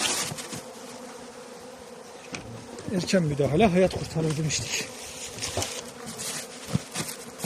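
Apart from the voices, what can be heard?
honeybees buzzing at hive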